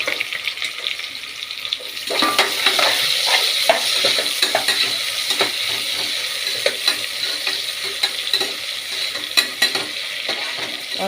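Sliced onions with fennel seeds frying in a pan, a continuous close sizzle that swells after the first couple of seconds, with frequent clattering stirs and scrapes throughout and no talking.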